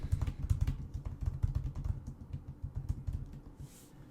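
Rapid typing on a computer keyboard, a dense run of close, crisp key clicks in uneven bursts that thin out toward the end, with no voices.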